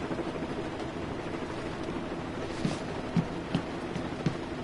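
Steady rain in the video game Metal Gear Solid 5: The Phantom Pain, a continuous even hiss of falling water with a few faint soft thuds, no voices.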